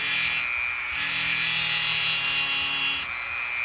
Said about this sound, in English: So let's give this a try. I go real gentle. No pressure.